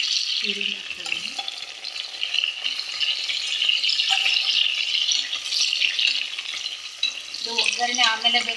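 Chopped onion sizzles and fries in hot oil for a tempering while being stirred, a steady frying hiss throughout with a few scraping stirs near the start and end, close and fairly loud.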